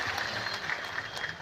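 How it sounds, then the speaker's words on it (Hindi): An audience at a tribal unity gathering claps for a local legislator, a short burst of faint, dense applause at some distance. "जोरदार तालियां विधायक महोदय के लिए"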